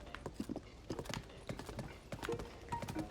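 Horse hooves clip-clop in an irregular trotting rhythm while riding in a Legend of Zelda game, a moderately close, continuous patter with faint snorts mixed in.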